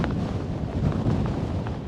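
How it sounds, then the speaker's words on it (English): Blustery wind on Dartmoor moorland buffets the microphone with a continuous low, rumbling roar for a brief moment. "Coming to you from a blustery, windy Dartmoor"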